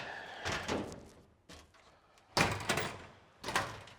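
Workshop cupboard doors are shut one after another, a series of four sharp knocks and thuds with short rattling tails, close and clear with no talk.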